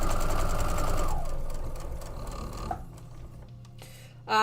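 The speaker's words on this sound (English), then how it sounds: "mine does one single backstitch before it cuts the thread" A sewing machine runs steadily, makes a single backstitch, then slows and stops with a click as the automatic cutter trims the thread, followed by a short thump.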